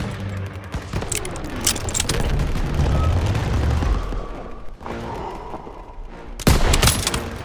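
Call of Duty: WW2 battle gunfire, dense rapid bursts and rattling shots with heavy booms layered over a constant rumbling din, loud and close, ending in a sharp blast.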